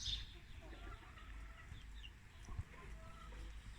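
Chickens clucking agitatedly in a coop, faint and somewhat distant, with scattered short clucks over a low background rumble.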